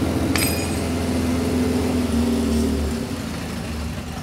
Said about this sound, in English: It seems like it's idling down.